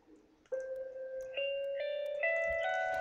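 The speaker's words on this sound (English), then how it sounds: "it has a typewriter effect, like the Don't Starve. It has a sort of flittering sound" Typewriter-style text blips from Stray Cat Crossing tick out in a quick series of bright tonal chimes, each step adding a new pitch as dialogue text appears, faint and alone.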